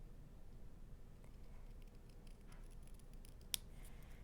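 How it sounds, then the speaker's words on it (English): Scissors cutting down the middle of a paper gift tag, soft faint snips over a quiet background hum, ending in one sharp close click of the blades. "So I'm going to cut right down the middle."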